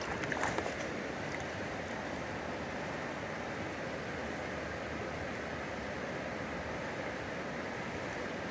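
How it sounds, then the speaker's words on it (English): Water swirls and sloshes in a gold pan during outdoor gold panning, a continuous soft rushing wash with a few light splashes at the start, steady and close, no voices. "Let's do a little swirl here."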